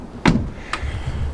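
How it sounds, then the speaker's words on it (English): A Seat Leon car door swung shut after its gasket and alignment were adjusted, giving one sharp close thud followed by a lighter second knock and faint low rumble after. "and when I close the door,"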